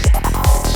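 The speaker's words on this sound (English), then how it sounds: "So I've created this main FM lead using Pigments." Glassy FM synth lead built from a factory wavetable in Arturia Pigments for a psytrance track, with two punchy low-end hits and a bright buzzing tone sustained in between, loud and alone.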